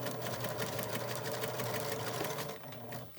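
A sewing machine runs steadily, stitching a pleat into a fabric face mask, its fast even whir continuing without pause and easing slightly near the end.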